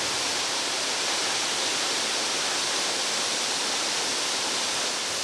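A waterfall in the Belize countryside pours as a dense, steady broadband roar, loud and unbroken throughout with no other sounds.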